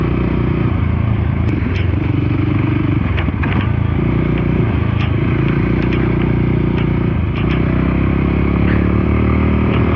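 A Voge 300 Rally motorcycle being ridden, its single engine droning loud and steady from up close, with wind rush and occasional clatter throughout and no speech.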